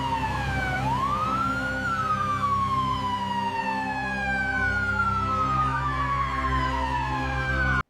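An ambulance siren wails loud and steady, its pitch sweeping up and gliding down in long rising and falling tones over a continuous low rumble, with no voices.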